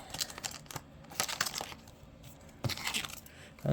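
Plastic wrapper on a collectible card pack crinkling and tearing as it is opened, bursts of close, quiet crackling separated by brief pauses, with no talking.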